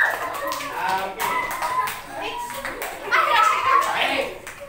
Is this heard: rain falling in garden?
no